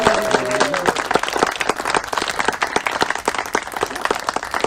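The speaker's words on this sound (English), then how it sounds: "Keep clapping so we can get the music on." Wedding guests applauding the newly introduced couple at a reception, a dense sustained round of clapping and cheering that fills the room, with a brief tone at the start.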